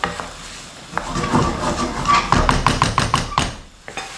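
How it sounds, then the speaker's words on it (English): Chicken curry paste is stirred in a pan over high heat, with repeated scraping and knocking of a utensil against the pan and a light sizzle, building into a quicker run of metallic taps, with no voices. "Keep stirring this so it doesn't burn"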